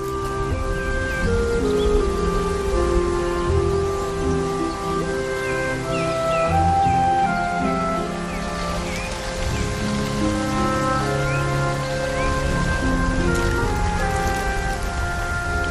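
Rain falls steadily through a dense forest, a constant close patter on leaves and ground, with sustained tonal music layered over it and no talking.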